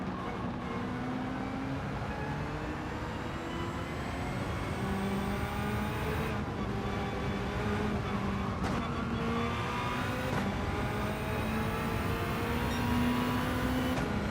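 Honda NSX race car in the Gran Turismo 7 racing game, a steady engine drone with shifting pitch as the car runs close and passes, continuous and loud throughout with no talk.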